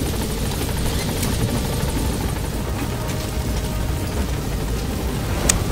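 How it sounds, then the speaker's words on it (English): Helicopter in the video game Metal Gear Solid V, a steady, loud rotor drone with a constant whirring buzz throughout, no speech over it. "I'm just gonna take my bro and just go into the helicopter here."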